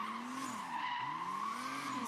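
Tires squeal loudly as a BMW 535 skids through a drift event, a sustained wavering screech with the engine tone rising and dipping across the slide.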